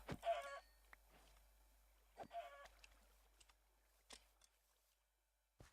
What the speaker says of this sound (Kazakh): Тауық бар екен, тауық өлтірейік.